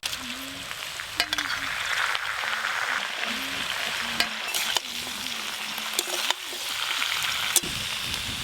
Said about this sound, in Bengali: এই সবজিগুলো প্রায় ভাজা হয়ে এসছে।